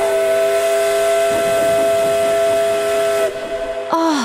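Cartoon steam whistle clogged with quarry gravel blows a loud sustained hissing shriek that sputters and falters near the end, close and with no talk over it.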